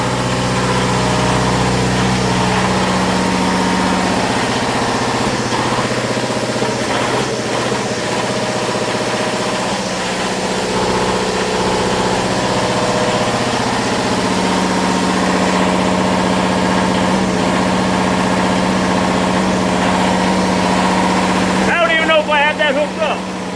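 A running Onan DJC generator engine gives a loud, steady drone with a low rumble, and someone speaks over it intermittently.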